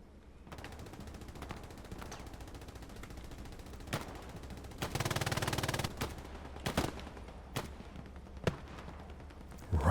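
Machine-gun strafing run in the WWII shooter Hell Let Loose, heard as dense sustained automatic fire with a longer burst midway and scattered sharp single shots and bangs, set against a steady rumbling battlefield background.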